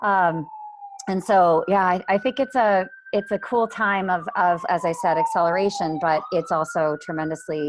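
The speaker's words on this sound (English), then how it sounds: "sorry for the sirens." A wailing siren rises and falls steadily under someone talking close by, the tone sliding slowly through the whole stretch.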